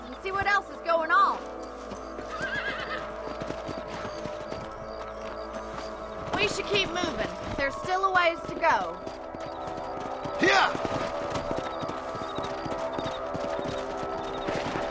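Horses ridden in the video game Red Dead Redemption, with repeated hoof clip-clops at a steady pace under game music and characters talking throughout.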